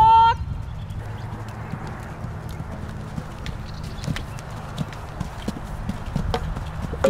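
A horse walks during grid training, its hooves giving a steady, close clip-clop rhythm on the ground, with a brief voice at the very start.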